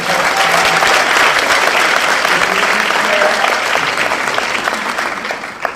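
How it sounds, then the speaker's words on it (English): Loud, dense applause fills a school district board meeting room, sustained and even before tapering slightly toward the end. "You can applaud."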